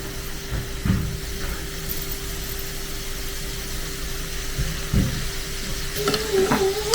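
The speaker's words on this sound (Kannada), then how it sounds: "ಈಗ ಎಣ್ಣೆಗೆ ಹಾಕೋಣ" Karjikai pastries, filled with coconut and sugar, frying in hot oil: a steady, hissing sizzle runs throughout, with a few brief clatters of stirring or handling near 1 and 5 seconds.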